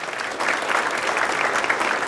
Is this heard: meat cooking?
no